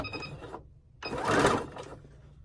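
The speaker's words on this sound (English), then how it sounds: "I want to back stitch this just a little." A sewing machine back-stitches the edge of a pillow case in two short bursts, a brief whirring run followed by a longer, louder one, close and clear.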